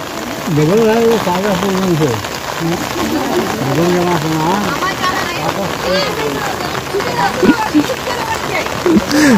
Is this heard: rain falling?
yes